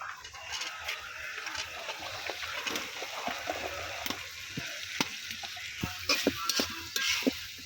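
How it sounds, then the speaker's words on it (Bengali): Eggplant and potato pieces sizzle and fry in a pan with oil, stirred now and then, a steady hiss broken by scraping clicks near the end. "এই যে আমি বেগুন আর আলুটা যে ধুয়ে রাখছি, এটা এখন দিয়ে দিব। এটা প্রথমে দিয়ে ভালোভাবে কষাই নেব।"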